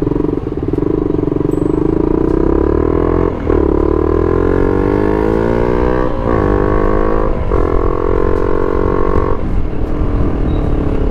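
A motorcycle being ridden, its engine humming loud and close with a steady drone and a few shifts in pitch as the throttle changes, the motor running smoothly throughout.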